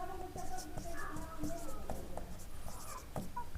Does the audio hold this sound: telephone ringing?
no